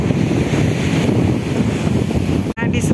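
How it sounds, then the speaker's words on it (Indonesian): Morning sea waves wash onto Bangsal beach under a light breeze, a steady close rumble of surf and wind noise that cuts out briefly near the end. "Menikmati matahari terbit, suasana pagi dengan laut yang bersih, angin sepoi-sepoi."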